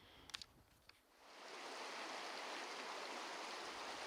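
A creek running near the bottom of a wooded hillside trail, its steady broadband rush of flowing water swelling in after a few faint knocks and holding continuous and fairly close.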